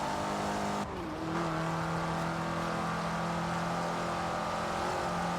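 An Opel (Vauxhall) Astra in Forza Horizon 4 revs hard and holds at high RPM, a steady loud engine drone that jumps in pitch after a brief dip, with no voices over it.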